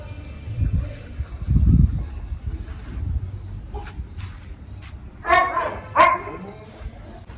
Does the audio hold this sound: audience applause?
no